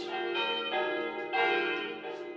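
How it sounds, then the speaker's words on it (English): Church bells ringing in overlapping, sustained tones that swell and fade, with a rich metallic resonance. "even when I stop the bells, they start nice gradually, and they end gradually."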